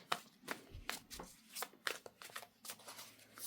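Oracle cards being shuffled by hand, a run of soft riffling bursts and taps repeating at an uneven rhythm, close and fairly quiet, with no talking.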